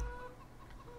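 A hen clucks briefly in the Farming Simulator 17 video game on the Sunshine Valley farm map, a short, soft burst of low clucking over a quiet background hum.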